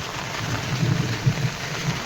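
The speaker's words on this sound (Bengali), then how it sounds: "এই দেখুন আবার দেখুন কত জল বৃষ্টি হচ্ছে, দেখতে পাচ্ছ কত বৃষ্টি হচ্ছে সকালে।" Heavy morning downpour pounding steadily on surfaces nearby, a dense continuous wash with low rumbling thuds underneath, loud and unbroken, no talking.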